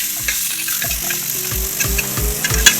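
Onions with salt fry loudly in a pot, stirred with regular spoon scrapes and knocks every half second over a constant close sizzle, with no voices.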